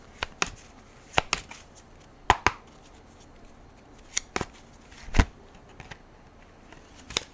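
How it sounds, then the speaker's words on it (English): Tarot cards shuffled by hand during a reading, giving a series of sharp, papery riffles and snaps that come in irregular bursts, close and fairly quiet, with no talk. "The cards are shuffling weird."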